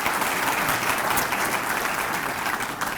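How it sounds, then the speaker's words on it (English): Steady applause from an audience at a 2020 inaugural address ceremony, dense continuous clapping filling the whole moment at even loudness with no talk over it. "Give Angelo a round of applause as well."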